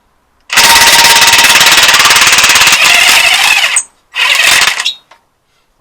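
Spanner or impact tool loosening a bolt during Vauxhall Astra engine removal, a loud continuous rattling ratchet burst for about three seconds, then a brief squeal, a pause and a second shorter burst, close and alone.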